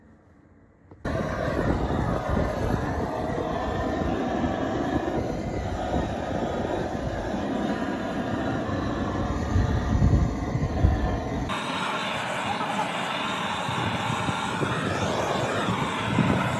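Strong, steady wind buffeting an exposed self-build roof, a continuous roar that keeps going with no break from the second second onward, loud and close with no talking over it.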